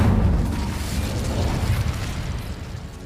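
An Incendio fire spell bursts in Hogwarts Legacy, giving a booming, explosive whoosh that is loudest at the start and then trails off into a rumbling, crackling roar over a few seconds.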